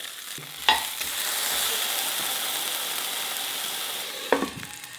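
A homemade smashburger sizzles and spits in hot oil under a glass dome lid, a steady loud frying hiss with two sharp clatters near the start and end.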